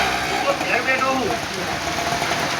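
Rain falling during a windy storm in Martoli, a steady hiss of drops heard near and fairly loud for the whole stretch, with a voice speaking faintly underneath.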